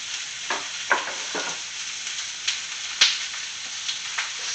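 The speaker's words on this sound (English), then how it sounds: "we got a good sizzle on that one" Vegetables sizzle and crackle in hot oil, with a steady frying hiss and occasional louder pops as they are stirred.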